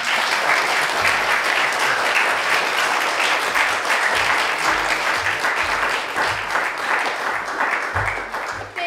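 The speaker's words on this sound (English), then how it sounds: "Let's give a round of applause to everyone who was on stage tonight." An audience applauds at an evening stage performance, steady dense clapping that holds at full strength for several seconds before tapering slightly at the end.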